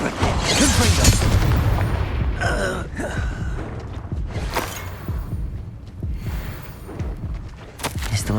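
A Confringo fire spell goes off in the game Hogwarts Legacy: a loud booming blast with a rushing, crackling burst, followed by further thumps and swells of game sound effects, close and forceful.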